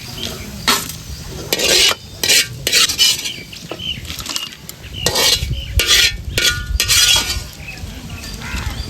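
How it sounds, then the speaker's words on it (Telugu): Dried red chillies frying in oil in a kadai, with repeated metal clinks and scrapes of a ladle stirring against the pan over a low crackle. "తుంచి పెట్టుకున్న ఎండుమిరగాలన్నీ అదే కడాయిలో వేసి గల గలలాడేలా బాగా ఫ్రై చేసుకుందామండి"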